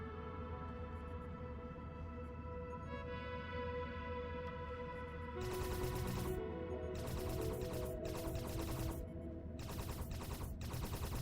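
Crew combat gunfire in a spaceship colony builder game: after a quiet stretch, bursts of rapid shots break out in several separate volleys, fairly loud against a soft droning background.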